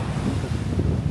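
Strong wind buffets the microphone at a Hawaiian North Shore beach on O'ahu, a loud, continuous low roar blended with rushing surf from high waves, with no voices.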